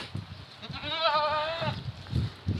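Young goat kids on a farm on a cold day, one giving a single wavering, drawn-out bleat mid-clip, fairly close, with soft low rustling and handling noises around it.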